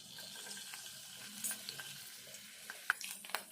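Garlic frying in a pan for ridge gourd dal gives a faint, low sizzle with light stirring scrapes and a few small clicks, heard close but quiet.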